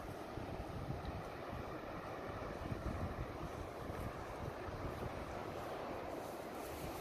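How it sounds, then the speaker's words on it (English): Steady roar of strong wind buffeting the microphone at Whatipu, New Zealand, a constant low rumble with gusty swells throughout and no voices. "It's really windy"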